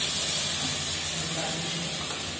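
Chicken masala paste in a hot kadhai gives a steady, loud, broadband sizzle and hiss that carries on evenly throughout, close up.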